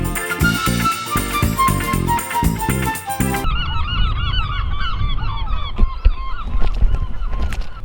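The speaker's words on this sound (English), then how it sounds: "Seagulls." Birds call repeatedly near a Welsh lake, a chorus of honking cries close by, following a burst of loud music at the start.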